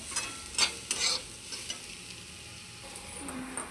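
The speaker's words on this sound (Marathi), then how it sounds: "कांदा परततोय कांदा परतण्यासाठी थोडा टाइम लागतो" Onion sautés in a pan until it browns, giving a quiet low sizzle with a few soft spoon scrapes and taps near the start.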